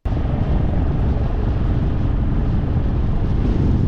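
An auto rickshaw speeds along a newly laid road with a constant, loud roar of engine and rushing wind, unbroken and close throughout.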